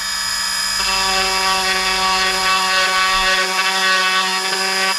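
A battery-powered Dremel rotary tool running low on charge whines loudly and steadily at close range for the whole stretch, its high motor pitch holding nearly constant with no talk.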